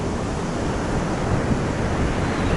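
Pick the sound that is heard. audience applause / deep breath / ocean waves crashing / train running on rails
ocean waves crashing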